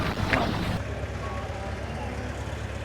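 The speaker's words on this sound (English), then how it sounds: "It's a nice engine, isn't it?" A steady low engine drone runs throughout, with a burst of louder mixed noise at the start before settling into an even hum.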